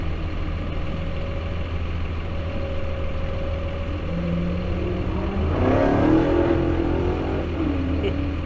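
An old car on a test drive, fitted with bus leaf springs at the front, runs with a steady engine drone that rises as it accelerates midway, with some rattling and road noise.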